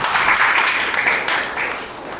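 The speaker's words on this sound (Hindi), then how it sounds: "ताली बजा के प्रभु को धन्यवाद करें" Church congregation clapping hands in worship, a loud dense burst of applause close by that gradually softens over a couple of seconds, with no other voices.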